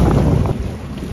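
A strong storm wind buffets a boat on the Brahmaputra river, a loud, rough roar of gusts hitting the microphone throughout the short stretch, with no voices.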